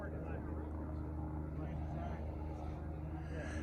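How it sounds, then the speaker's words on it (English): A helicopter returns toward the Fence Meadow fire lookout during a summer maintenance job, likely hauling another load. Its steady low engine drone runs through the whole stretch beneath people talking. "chopper's coming back, maybe for another load"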